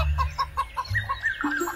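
A hen clucks in a quick run of short, close, repeated clucks with no other sound.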